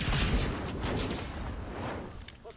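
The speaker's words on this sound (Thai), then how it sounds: "รถระเบิด" A heavy, booming blast at the start followed by a rough, crackling rumble that slowly fades, a car exploding in a video game.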